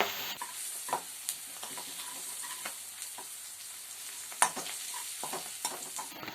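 Onions sautéing with ginger garlic paste in a pan, a soft continuous sizzle with occasional scraping stirs and light clinks, close and quiet.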